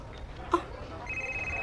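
A cellphone rings indoors: a short electronic blip, then a steady high ringtone tone that holds to the end, fairly quiet against a dull room background.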